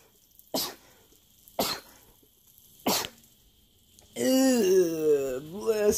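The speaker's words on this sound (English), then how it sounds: "And I gotta sneeze." Three short, sharp sneezes spaced about a second apart, in a kitchen while frying an egg, followed by a drawn-out wavering vocal moan.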